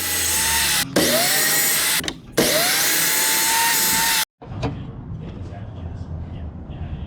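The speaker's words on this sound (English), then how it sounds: "And then one end is cut for square at the miter saw." Miter saw squaring the end of a wood board: two loud, sustained high whines of the spinning blade as it cuts, each winding down, then a sudden stop followed by quieter workshop clatter.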